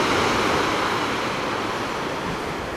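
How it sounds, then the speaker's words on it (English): Pacific Ocean waves smash against the shoreline of a California coastal inlet, a steady, dense roar of surf with some wind rumble, loud and continuous throughout. "the waves smashing against the shoreline there"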